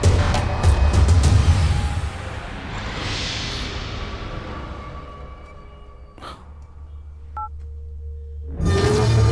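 A few short telephone dialing tones over steady low background noise, with a brief rustle and a louder burst of noise at the end.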